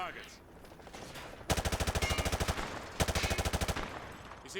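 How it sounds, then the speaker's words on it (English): Automatic rifle fire at shooting-range targets in Call of Duty: Modern Warfare 2 Remastered, two long sustained bursts of rapid, evenly spaced loud shots separated by a brief pause, over a faint background ambience. "Grab that weapon off the table and fire at the targets behind you."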